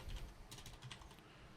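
A name typed on a computer keyboard while setting up a vMix multiview: a quick run of soft key clicks, faint and close, over a quiet room hum.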